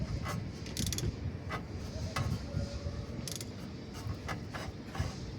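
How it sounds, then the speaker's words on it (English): Screws being tightened from the lower side during a tire-mounting job: faint, irregular ratcheting clicks and metallic ticks over a low rumbling background, close but quiet. "we tighten the screws from the lower side"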